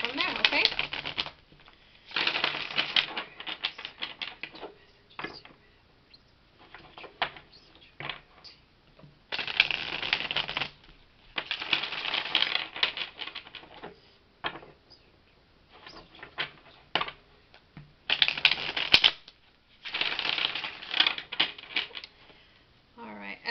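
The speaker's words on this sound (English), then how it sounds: "I'm just going to do a quick little shuffle and" Cards are shuffled in repeated bursts of rapid riffling, close and crisp, with short pauses between each shuffle.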